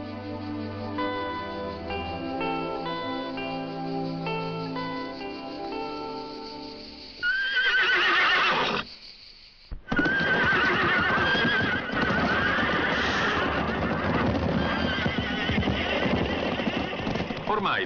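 Horses neigh and gallop in the open African savanna after being driven out of stables. Loud bursts of whinnying come over music, then a dense, busy rush of hooves and calls fills the rest.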